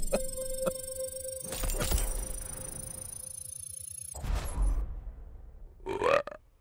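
A burp rumbles out mid-game during a voice chat among players, a low guttural belch with a second short one near the end, fairly close and loud against a tonal background.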